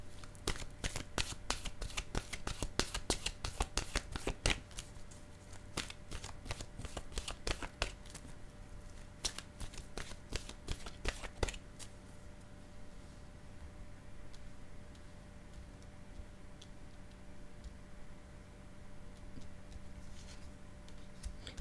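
A deck of oracle cards shuffled by hand in rapid, crackling riffles for about twelve seconds, then settling into quieter soft handling over a low steady hum, close and moderately loud with no talk.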